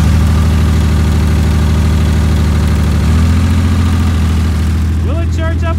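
Ford Explorer engine idling steadily, loud and close, with a constant low rumble that shifts slightly in pitch partway through.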